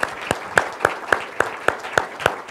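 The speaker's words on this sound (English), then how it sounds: "I want to give you guys a round of applause" Scattered applause from a small group at a university alumni recognition ceremony, with sharp claps landing in a loose, steady pulse about every quarter second, moderately close.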